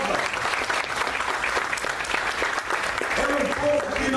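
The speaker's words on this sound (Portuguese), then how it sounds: "Aplauda o nome do Senhor Jesus" Congregation applauding in praise of the name of Jesus at a church service, a dense, steady wash of many hands clapping, fairly near and sustained, with voices talking and calling out over it.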